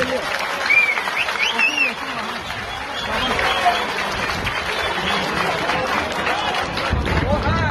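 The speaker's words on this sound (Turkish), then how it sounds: "Yıldız Baş pehlivanlara şöyle kuvvetli bir alkış istiyorum." Crowd at a Turkish oil wrestling event in central Denizli applauds steadily, a dense sustained clapping from many spectators with some background murmur throughout.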